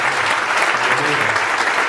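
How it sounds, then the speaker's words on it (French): Dense, steady applause from a large crowd at a religious gathering welcoming a prophet, loud and continuous throughout with a faint murmur of voices underneath. "sous vos acclamations, si tu acclames bien, il va venir rapidement"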